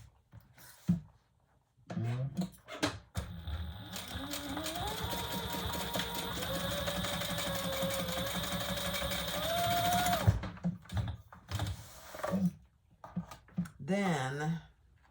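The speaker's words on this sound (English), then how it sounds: "And we're going to stitch across this." A sewing machine basting a seam across a leather retro-style sling bag runs steadily for about eight seconds with a rising mechanical whir, framed by brief speech before and after.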